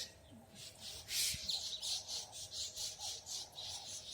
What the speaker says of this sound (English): Oh, I apologize for these birds.